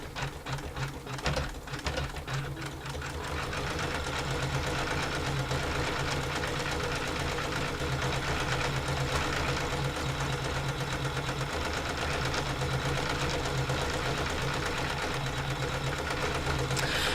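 A home embroidery machine stitches in a steady, continuous mechanical whir with a rapid, even needle rhythm, running close and alone without talk after a brief start.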